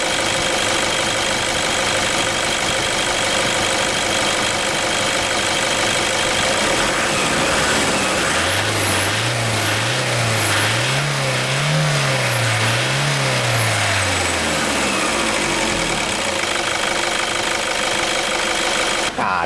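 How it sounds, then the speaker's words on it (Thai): A Toyota Vigo/Revo pickup engine idles steadily during coolant bleeding, a loud, continuous mechanical hum with a rising and falling whine, heard up close. "เดี๋ยวผมจะปิดเครื่องก่อนนะครับ"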